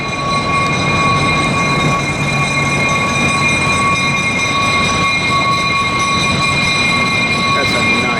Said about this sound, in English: I hear an MP15.